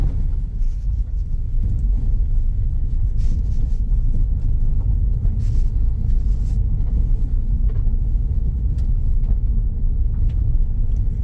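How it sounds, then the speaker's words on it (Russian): Moskvich 3 rolling over a badly broken road, the suspension giving a loud, continuous low rumble inside the cabin with scattered small knocks and thumps from underneath, and no talking. "Едем на автомобиле, просто слушаем звуки подвески по вот такой раздолбанной дороге."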